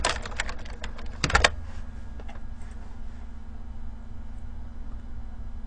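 Quick bursts of computer keyboard typing, close and crisp, with a flurry of key clicks early on, then sparse taps over a low steady hum.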